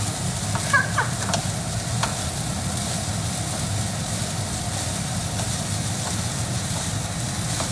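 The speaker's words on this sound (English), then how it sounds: "we're just gonna stir this up a little bit" Chinese sausage fried rice sizzles steadily in a hot pan while being stirred, with a few scraping clinks of the utensil early on and a constant loud frying hiss throughout, no voices.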